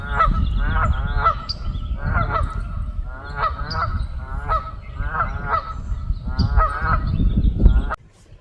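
A flock of geese honks repeatedly nearby, loud overlapping calls in quick bursts that keep coming throughout, ending abruptly.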